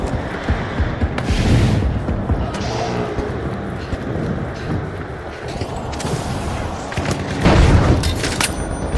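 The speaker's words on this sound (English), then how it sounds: "Frag grenade out" Booming blasts and rapid gunfire fill a chaotic arena firefight in The Finals, including a frag grenade detonation, loud and dense with a heavy low rumble swelling twice.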